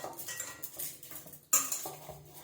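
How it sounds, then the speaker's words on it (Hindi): Dishes being washed in a home kitchen in winter: pots, plates and utensils clink and clatter irregularly at close range, with one sharper knock midway and soft scraping between hits, no voices. "हाँ, ठंड में बर्तन धोना बिल्कुल पसंद नहीं है"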